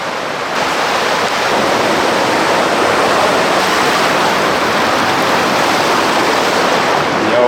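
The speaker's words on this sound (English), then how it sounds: "The river's starting to constrict up here, and a bit deeper and swifter." A deep, swift river flowing through a narrowing channel on a backcountry meat hunt, heard as a loud, steady broadband rush close by, continuous and without voices.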